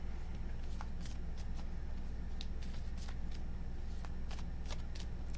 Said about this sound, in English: Two shuffles.